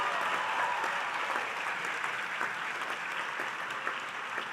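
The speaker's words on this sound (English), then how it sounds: "Can you please give yourselves a round of applause?" Medical graduands and guests at an undergraduate pledge ceremony applaud in a full, steady round, a broad sustained clatter of many hands that stays level for several seconds without talk.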